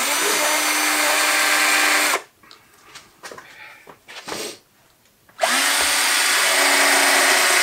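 A power drill with a keyless chuck drilling a pipe whirs loudly and steadily for a couple of seconds, goes quiet with faint handling noises, then whirs up again at full speed.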